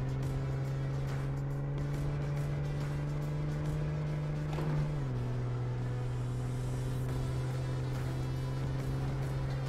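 A muscle car in the driving game My Summer Car holds a steady, droning engine note at constant speed, with a brief dip in pitch midway as it shifts or eases off, loud and continuous with no talk.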